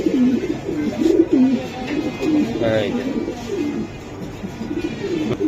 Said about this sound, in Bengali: বাহ, বিশাল সাইজের কবুতর, সিঙ্গেল নর ভাইয়া।